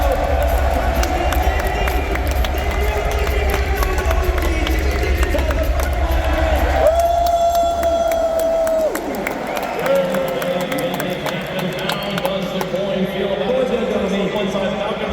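A large crowd at the RLCS Raleigh Major 2025 Rocket League esports event roars continuously in the distance while a voice talks over it, with a brief whistle-like tone partway through.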